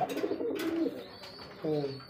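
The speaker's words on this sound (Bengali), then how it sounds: "কবুতর যখন ডাকে তখন কথা বলেন কেন" Pigeons coo nearby in low, throaty, rolling calls, one long phrase and then another after a short pause, with soft bird noises between.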